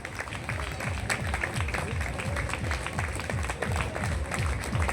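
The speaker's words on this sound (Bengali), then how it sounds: "তো সবাই আমরা হাততালি দিয়ে স্যার এবং ম্যাডামকে আমরা জানাবো।" Audience clapping at an outdoor annual company picnic, steady dense applause throughout with rhythmic claps close by, moderately loud and sustained.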